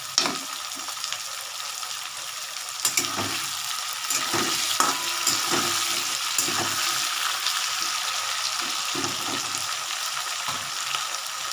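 Potatoes and bay leaves sizzle steadily in hot oil in a pan, a dense, close frying hiss with occasional scrapes and stirring clicks, and no voices.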